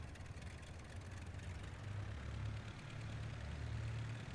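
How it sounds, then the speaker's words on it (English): The engines of a Gotha G.V bomber run up in a flight-simulator game, a faint, steady, low droning rumble that swells slightly toward the end, with no speech. "Alright, so now the engines are started"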